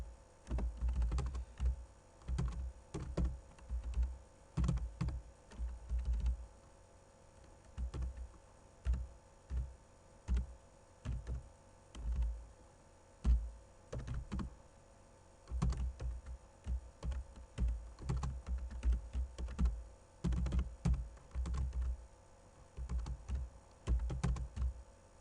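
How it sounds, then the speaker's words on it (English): Typing on a computer keyboard while entering a road name in ArcGIS software, with steady clusters of close key clicks in bursts separated by short pauses, quiet and without speech. "Yes, I'm gonna type this name."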